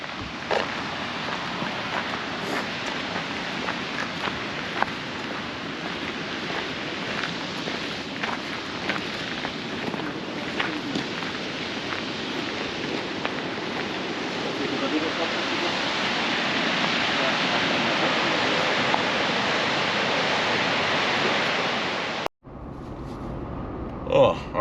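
Lower Undine Falls in Yellowstone roars as a steady broadband rush of falling water heard from an overlook, continuous and fairly loud, swelling slightly toward the end before cutting off abruptly.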